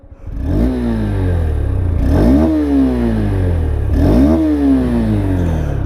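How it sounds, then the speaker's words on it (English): A Honda Hornet 2.0 motorcycle engine revs up three times in a row, each rising exhaust whine climbing and falling back, loud and close with a steady rumble underneath. "let me show you the exhaust note"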